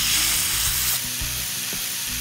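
Chicken pieces flavoured with rosemary sizzle and fry in a hot pan on a stove, giving a loud, steady hiss that drops slightly partway through, with a few soft knocks and scrapes underneath.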